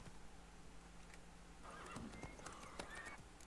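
A horse whinnies in the video game The Witcher 3, a faint neigh over quiet ambience, followed by soft hoof clops and shuffling toward the end.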